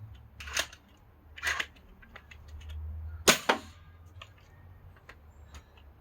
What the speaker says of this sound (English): here is prototype number 3 firing bamboo darts